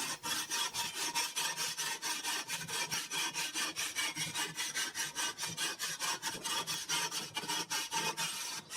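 A hand saw cuts roughly through an aerated concrete block for a penguin sculpture, giving fast, rhythmic rasping strokes that are steady, close and continuous with no talking.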